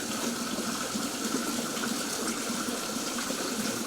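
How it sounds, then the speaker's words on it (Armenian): Water flows and splashes steadily at a village drinking-water spring, a continuous close rushing sound with no speech. "Այս պահին մենք գտնվում ենք աղբյուրում"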